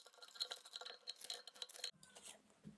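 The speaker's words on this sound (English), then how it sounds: "I'm going to shuffle again." Tarot cards being shuffled by hand during a reading, a quiet run of soft riffling, tapping and sliding card sounds in close, uneven bursts, falling away near the end.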